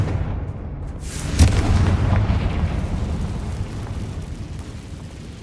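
A Confringo spell explodes in the Hogwarts Legacy video game, a sharp booming burst with a rumbling tail that decays over several seconds amid low ambient noise.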